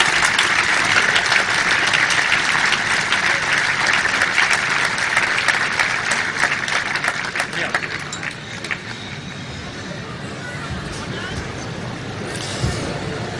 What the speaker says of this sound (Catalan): Un fort aplaudiment